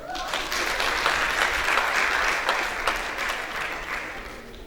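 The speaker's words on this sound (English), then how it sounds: "Clap for yourself." An audience at a college of education graduate induction ceremony bursts into loud, dense clapping that holds steady close by for several seconds before easing slightly.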